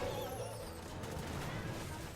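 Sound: bombs exploding in the video game Clash of Clans

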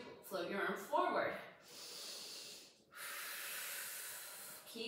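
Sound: breathing during Pilates reformer exercise

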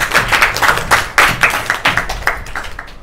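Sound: audience clapping

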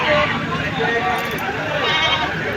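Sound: goat bleating

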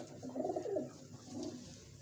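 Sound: pigeons cooing

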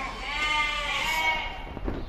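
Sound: Sindhi goats bleating at Deonar livestock market

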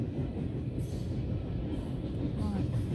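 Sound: CN freight train 305 passing at Belleville

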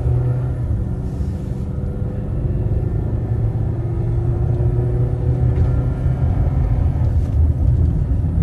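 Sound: 2010 Dodge Journey accelerating while driving

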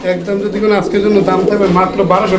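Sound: Raj Golla pigeons cooing

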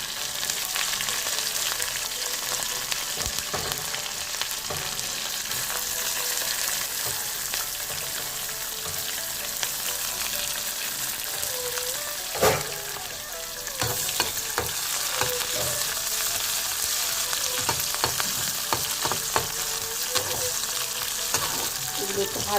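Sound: garlic, onion and green chillies frying in oil

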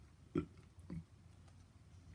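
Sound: narrator imitating a burp

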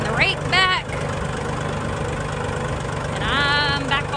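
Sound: tractor engine idling

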